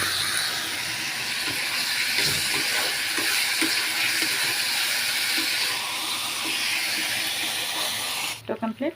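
Vegetables frying in a pan in a home kitchen, a continuous loud sizzling hiss with faint clinks, dropping off abruptly at the end as talking begins.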